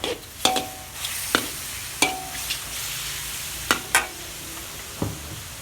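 Sunflower sprouts are stir-fried with oyster sauce over a low background sizzle, with about eight sharp spatula knocks and scrapes against the pan at uneven intervals.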